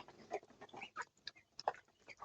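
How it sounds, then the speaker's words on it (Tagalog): A large chicken clucking in short, irregular bursts at a farmyard, fairly faint and close, with no talk. "Malaking manok."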